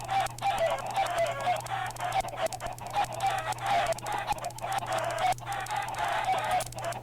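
Minecraft chickens cluck steadily in a dense flock, a continuous overlapping chorus of clucks with occasional crowing-like calls, fairly close, over a constant low hum and no talking.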